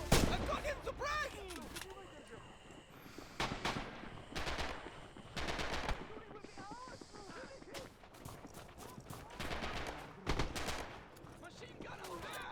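Machine gun fire in the World War II shooter Red Orchestra 2 at Stalingrad, with repeated loud bursts of rapid automatic shots mixed with scattered single gunfire, and soldiers shouting in between.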